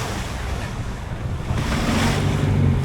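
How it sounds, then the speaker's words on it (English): Large ocean waves surge and crash continuously around a small boat in open sea, a loud broadband roar with strong wind buffeting the microphone, swelling louder in the second half, with no voices. "The waves are getting huge now."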